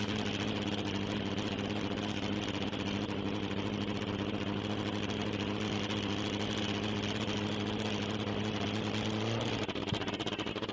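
Ford Model A 4-cylinder engine in a land speed race car idling steadily at the start line of a dry lake course, a continuous rumbling drone at constant level throughout.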